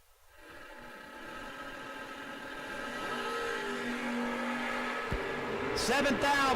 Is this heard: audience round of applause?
no